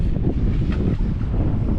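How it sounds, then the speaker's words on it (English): Strong wind buffets the microphone aboard a small boat heading out into the Gulf, a loud continuous roar with rumbling gusts and no voices. "This is a little windy, and the wind's only gonna get more windy."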